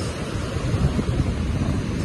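Sea waves wash on the shore at a beach resort in Dingalan, Nueva Ecija, early in the morning, as a continuous rumbling surf mixed with wind buffeting the microphone.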